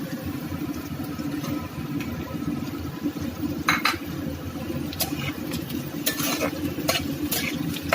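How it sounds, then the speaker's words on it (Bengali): Onions tipped into a hot frying pan over high flame and stirred with a utensil, giving steady sizzling with scraping and clinks of metal against the pan, close and continuous with no talking. "এবার এর মধ্যে আমি পেঁয়াজটা দিয়ে দেবো।"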